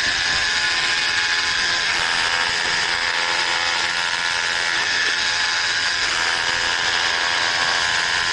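A masonry drill works on brick outdoors in a storm, whining continuously at close range, a steady high-pitched grinding hum with a dust-suction motor roar underneath, no pauses.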